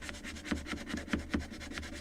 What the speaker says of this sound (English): For sure this one is more sanding.